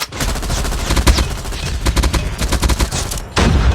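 Rapid automatic gunfire fires at enemies in the Call of Duty Mobile Big Head Blizzard mode, loud and close, with dense bursts of shots in quick rhythm, a brief drop in intensity, then a return to heavy firing.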